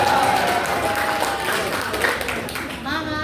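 Steady applause from an audience at a declaration rally of Islamic community volunteers in Indonesia, a dense continuous wash of clapping over a crowd, with a voice speaking through it.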